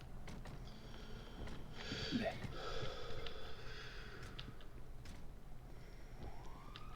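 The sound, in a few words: ambulance sirens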